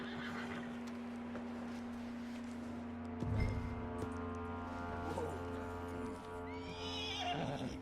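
A horse whinnies and snorts loudly in Red Dead Redemption 2, with a few hoof clops, over a low steady hum.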